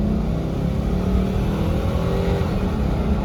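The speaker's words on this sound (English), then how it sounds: "I'm spinning the tires" A 2002 Nissan Quest GLE minivan accelerates hard from close by as its tires spin, with the engine holding a loud, continuous strained roar throughout.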